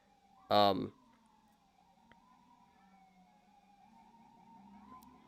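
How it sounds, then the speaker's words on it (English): An ambulance siren wails faintly in the distance, a steady drawn-out tone lasting several seconds after a short loud burst of voice at the start. "Got our first ambulance, guys."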